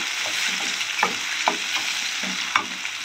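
Five finely sliced green chillies sizzle in a pan, a continuous frying hiss punctuated by several sharp scrapes and knocks of stirring.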